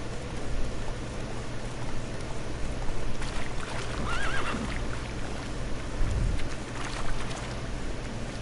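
Roach, the horse in The Witcher 3, lets out a clear whinny over a bed of ambient game noise, followed by a short snort, mid-distance and moderately loud, with no voices.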